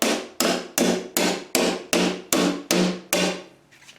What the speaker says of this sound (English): The holes are a snug fit, so it needs to be tapped in.